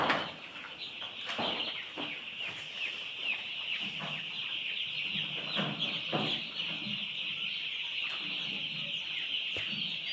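Chickens cluck in a farmyard among faint bird chatter and some wing flapping, the clucks scattered and moderately close over a steady background hiss.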